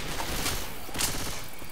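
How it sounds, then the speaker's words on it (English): Rapid gunfire in Left 4 Dead 2 rattles off in a dense, close burst of shots aimed at barrels, two sharper cracks standing out over the short volley. "I shot some barrels, guys."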